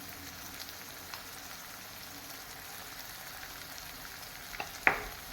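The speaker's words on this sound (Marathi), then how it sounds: "सगळे मसाले आपण तेलावर आता छान परतून घेऊया" Ground spices such as coriander powder, red chili powder, turmeric and garam masala frying in oil, a faint steady crackle with a couple of light clinks near the end.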